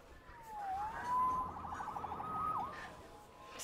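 Police siren in Marvel's Spider-Man 2 wailing in a rising and falling sweep through a city street, moderately distant and steady over a faint background hum.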